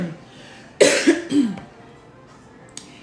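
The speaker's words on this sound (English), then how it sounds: "I'm gonna cough intermittently throughout this." A person getting over a cold lets out a close, harsh cough burst of a few quick hacks, then falls quiet.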